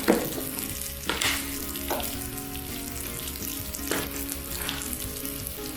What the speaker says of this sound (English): let's stir all that in